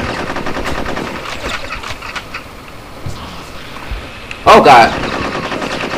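Automatic gunfire from Conker's Bad Fur Day rattles in rapid bursts through most of the stretch, with a louder blast near the end, while someone talks and exclaims over it.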